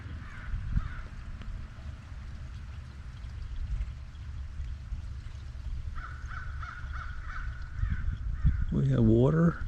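A crow caws close by near water, with a steady wash of water sound running throughout and a short harsh burst of caws near the end.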